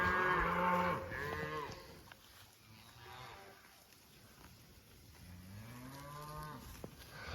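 Cattle mooing while grazing in a deer hunting area, several drawn-out lowing calls from nearby animals, one at the start and another near the end, over a steady background hiss.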